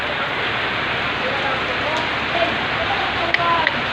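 Heavy rain pours in a dense, constant hiss at Urban Deca, close and loud, with faint occasional sounds rising briefly above the downpour.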